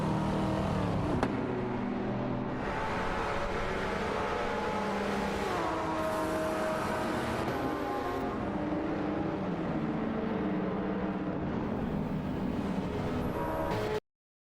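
Cars race in an AI racing video game, with layered engine drones rising and falling in pitch as they accelerate and pass, steady and moderately loud with no voices.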